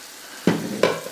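Minced meat filling for moussaka fries in a pan, with two sharp bursts of sizzling and stirring close up over a faint background.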